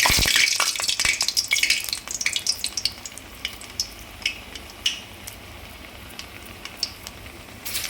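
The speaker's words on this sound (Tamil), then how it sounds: "கடாய் வச்சு ஆயில் விட்டுட்டாங்க அப்படியே குண்டு குண்டாக சின்ன சின்ன உருண்டைகளாக தட்டி போடுங்க" Dal vadas made from toor dal sizzle in hot oil in a kadai: a loud, dense crackle at first that thins into scattered pops and hisses, with no voices.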